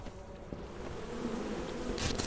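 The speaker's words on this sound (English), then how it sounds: "Oh, the bees." A steady insect-like buzzing drone, like a swarm of bees, continuous and fairly close, with game sound effects around it, in the video game Lethal Company.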